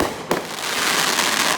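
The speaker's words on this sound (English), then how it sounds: "Mortars. That's mortars." Backyard mortar fireworks at a July 4th display in Fort Myers, Florida: a sharp close blast followed by a broad crackling roar that lingers and fades, loud and alone.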